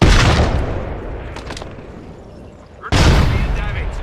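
Grenade blasts in Call of Duty: Modern Warfare II, a heavy boom that rolls off into decaying rumble and debris, followed a few seconds later by a second sharp, loud detonation, with a voice heard in between.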